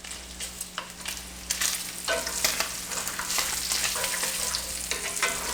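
Strips of bacon fry in a pan with a continuous, close crackling sizzle, punctuated by sharp spattering pops and occasional scraping as the pieces are moved around.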